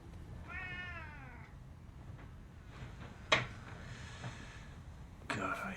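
A domestic cat gives a single clear, rising-and-falling meow near the start, quiet and close, followed by a few soft knocks and rustles in an otherwise hushed room.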